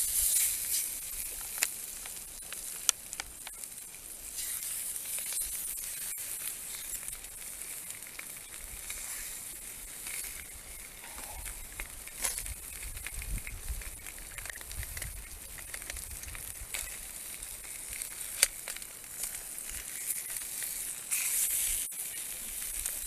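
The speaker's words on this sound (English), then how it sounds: "Just about fitting 2 sea bass in there. Do you hear them sizzle?" Two sea bass fry in melted butter in a pan on a Trangia camping stove, giving a steady, close, continuous sizzle with fine crackling and occasional pops, with no talking.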